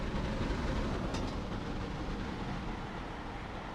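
Steam locomotive running in Train Simulator 2021, a dense rumbling chuff and rolling rail noise heard steadily and fairly close, with a faint brief whistle-like streak near the start and no talking.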